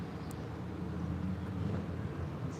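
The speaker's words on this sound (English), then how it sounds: "There's an engine sound over here right in the white truck straight down the street." A white truck's engine runs down the street, a steady low rumble heard from a distance with broadband outdoor noise around it.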